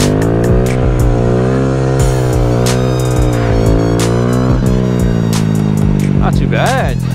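A Honda Grom motorcycle engine revving in first gear during a wheelie, a loud close buzzing drone that rises and falls in pitch, with wind rush and a voice speaking over it.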